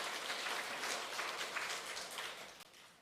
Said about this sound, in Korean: 현실도 박수 쳐주세요.